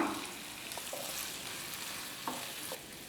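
Chopped capsicum sautés in a pan for a chicken fry, a soft, steady sizzle with a few light scrapes and clicks of stirring. It sounds fairly quiet and close, with no one talking.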